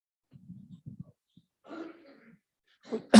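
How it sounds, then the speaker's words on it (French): A few short, rough coughs and throat-clearing bursts, close and isolated, with quiet gaps between them and a louder final burst. "tu as le droit de tousser, mon frère, c'est ton droit"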